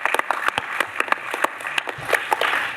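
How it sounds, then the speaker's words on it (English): A conference audience at a research summit claps for a speaker, with sparse, distinct handclaps in an uneven patter, fairly close and modest in volume. "So a big round of applause for Ted."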